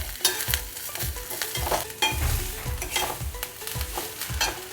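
Keelanelli leaves sauté in a hot pan with a steady sizzle, while a spoon scrapes and stirs in a quick, repeated rhythm close by.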